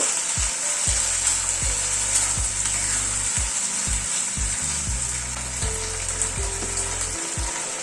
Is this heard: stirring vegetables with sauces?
yes